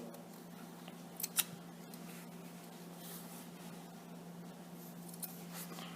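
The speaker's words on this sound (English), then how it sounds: "Cut off 1/4 inch of each side." Scissors trim cotton wick for a coil build on a Plume Veil RDA vape atomizer; a couple of faint, quick snips come close together, then quiet handling noise follows.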